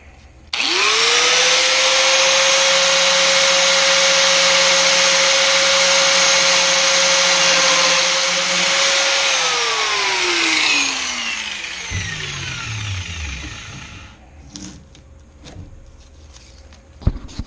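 A power tool trims excess dried resin on a 1976 Corvette body, a loud sustained high whine that holds steady for several seconds, then spins down in pitch and gives way to scattered handling noises.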